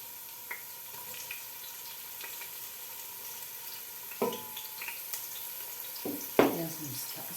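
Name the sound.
carrots and onions frying in a pan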